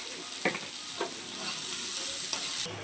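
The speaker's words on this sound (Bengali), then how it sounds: "পেঁয়াজগুলো এরকম ভাজা হয়ে গেছে" Onions frying in a pan for chicken lollipops, a steady loud sizzle with several sharp scraping clacks of stirring spaced across the span, close and continuous, no voices.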